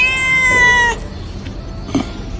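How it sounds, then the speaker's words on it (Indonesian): A cat meows loudly and close in a drawn-out, harmonic cry, then a faint short second call follows after a pause. "disamperin dia langsung meong-meong mamahnya"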